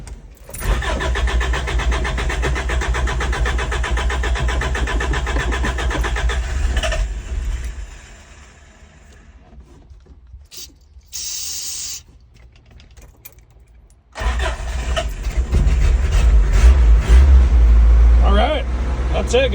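A truck engine fitted with a starting fluid system cranks and fires, running loud and steady, then drops away to near silence with a brief hiss before roaring back to a strong rumble near the end.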